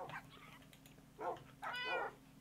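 A few short Minecraft cat meows, soft and slightly distant, spaced unevenly over a low steady hum, the last one longer and rising.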